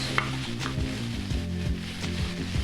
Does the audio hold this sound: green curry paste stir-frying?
yes